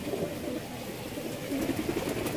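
Pet pigeons coo softly over a steady background hum, their low murmuring calls faint and continuous for a couple of seconds with no speech.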